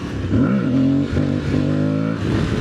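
A motorcycle in second gear revs up hard for a small wheelie, its rising and falling engine note loud and close, swooping up, dropping back, then climbing again with no talking.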